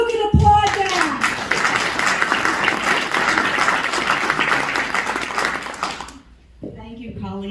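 Audience applause fills the room at a Scottsbluff County GOP convention, dense steady clapping with a brief voice at the start, fading out before a speaker begins talking.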